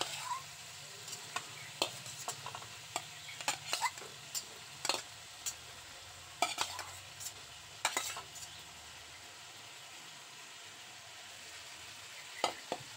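Ridge gourd and pre-fried potatoes stirred in a pan, a steady low sizzle under repeated sharp clicks and scrapes of a spatula against metal, spaced irregularly throughout, close and moderately loud.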